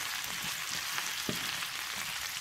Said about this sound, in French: mettre le feu au minimum et laisser tout ça braiser gentiment dans la poêle